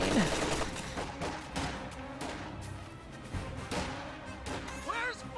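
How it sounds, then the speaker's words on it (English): Riflemen fire in a World War II strategy game, a dense crackle of rifle and machine gun shots with distant bursts and impacts, steady and moderately loud, with a voice speaking over it. "Every single bullet those riflemen fire has the potential to take out a model."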